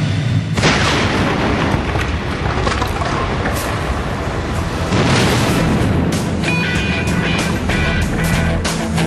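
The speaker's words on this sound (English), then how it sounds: "A tree cannon can explode." A tree cannon sealed with 5 pounds of gunpowder blows apart in a sudden loud boom, followed by a long rumbling roar of debris and echo, with a second heavy burst partway through.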